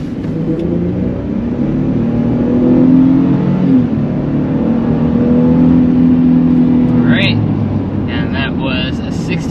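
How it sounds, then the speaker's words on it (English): A 2025 Ford F-150 STX pickup truck with its base engine accelerates hard, a loud low engine drone rising and holding from inside the cab, with a brief higher whine and clicks near the end. "first we need to start with a hard acceleration"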